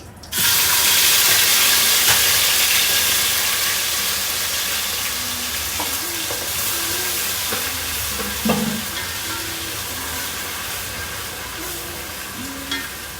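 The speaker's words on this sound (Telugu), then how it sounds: "ఇప్పుడు మనం వేసుకున్న పేస్ట్ అంతా కూడా మంచిగా ఫ్రై అవ్వాలి" Biryani masala paste, added after bay leaf, hits a hot pan with a loud hiss that settles into steady sizzling, broken by occasional scrapes and clinks of a spoon stirring, with no talking.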